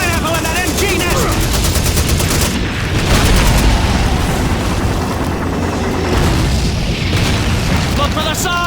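Loud, dense Call of Duty 2 trench battle: booming grenade blasts and rapid machine-gun bursts crackle almost nonstop through a World War II assault on an MG nest, with shouted voices in the mix.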